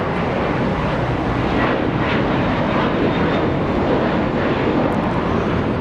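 A JetBlue airliner at Los Angeles International Airport fills the air with a loud, steady jet engine roar, constant and close, with wind buffeting the microphone.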